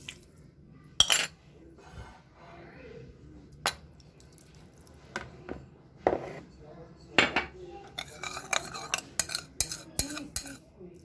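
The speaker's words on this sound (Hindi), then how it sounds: "तो अब मैं इसको अच्छे से इसमें मिक्स करूँगी, इस घी को।" Ghee being mixed into dough in a bowl, giving soft squishy stirring with scattered clinks of a spoon against the bowl, intermittent and fairly close, growing busier toward the end.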